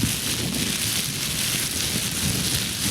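A plastic bag is crumpled and shaken to imitate rain, producing a dense, steady hiss of patter that sounds like a close, heavy downpour, continuous and without talk.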